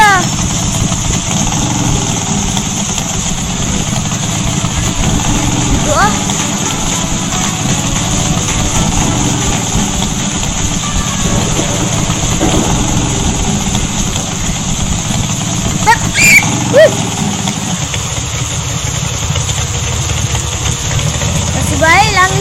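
A green motorcycle idles steadily in a video game, a constant engine drone running throughout at close range. Faint background game sounds and occasional chirps sit over the engine.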